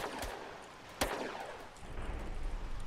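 Gunfire in a police role-play video game: a sharp, loud shot around the middle, with fainter crackling reports and background game noise around it.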